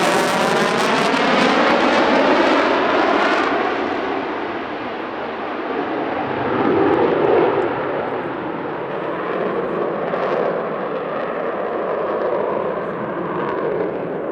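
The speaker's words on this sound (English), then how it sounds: "We'll shortly see the Typhoon performing a 420-degree derry turn" A Eurofighter Typhoon Tranche 1 jet roars loudly and continuously while flying a 420-degree derry turn at an airshow, its broadband engine rumble swelling and easing as it passes without any talk.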